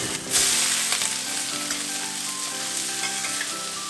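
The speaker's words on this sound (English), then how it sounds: "And now we will add the soaked rice noodles." Soaked rice noodles frying in a hot pan for pad thai, a loud continuous sizzle with stirring scrapes and clatter, close up and without talk.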